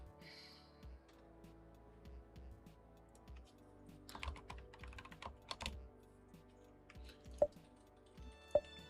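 Computer keyboard typing at a work desk, a quiet steady patter of keystrokes that thickens into a busier run midway, with two sharp louder clicks near the end.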